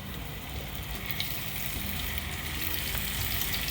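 Raw plantain pieces fry in hot coconut oil with a dense, steady sizzle that stays close and loud throughout, with no talking.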